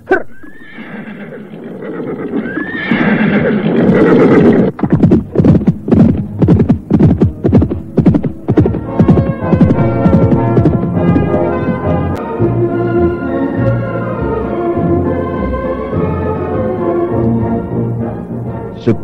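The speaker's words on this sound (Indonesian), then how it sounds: "Sekarang mereka tidak lagi mengendarai seekor kuda untuk berdua." Horses neigh and whinny loudly, followed by a rapid series of sharp clip-clop hoofbeats, then a sustained rumbling hum under continuing horse sounds, with no talk.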